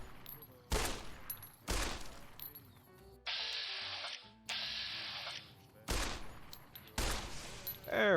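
Gunfire in the video game Fallout: New Vegas, several sharp loud shots spaced a second or so apart with short ringing tails, broken by two sustained bright hissing bursts in the middle.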